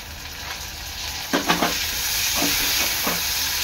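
Onion and tomato fry in oil for a dry Bombay duck and potato curry: a constant close hiss of sizzling with a few quick scraping stirs of the spoon breaking through.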